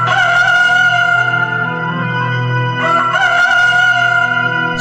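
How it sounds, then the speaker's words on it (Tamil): A rooster crows in a passion play, two long, loud, harmonic cock-a-doodle-doo calls heard close and clear, one after the other with a short gap between them. "சேவல் கூவுமுன்"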